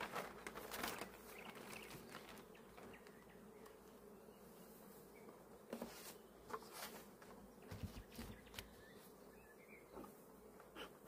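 Honeybees buzz around beehives being prepared for the rapeseed bloom, a dense, steady outdoor drone of many insects at middle distance, with occasional closer bees passing by and light handling noises.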